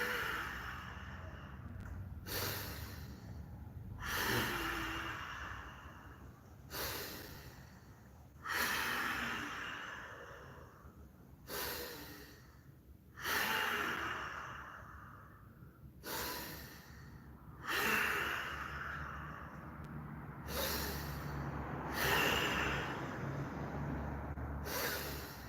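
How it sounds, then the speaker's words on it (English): Slow yoga breathing, long audible inhales and exhales alternating in a steady rhythm, close and soft with brief pauses between each breath. "breathe in, breathe out, breathe in, breathe out, breathe in,"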